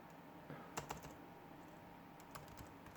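Keys tapped on a computer keyboard in a few scattered bursts, with short clusters of clicks separated by pauses, fairly quiet against a steady low background hum.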